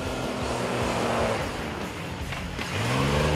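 Race car engine held at wide open throttle on the Namib dunes, a loud continuous roar with shifting pitch, rising and falling as the car labours and accelerates through the sand.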